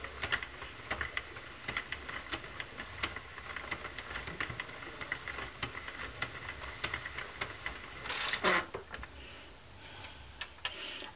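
A Sentro knitting machine is cranked by hand while it knits yarn, giving a steady run of small, close plastic ticks and clicks, with a slightly louder clatter near the end.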